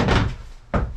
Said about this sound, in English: let's see if we can knock the bolts up from the inside now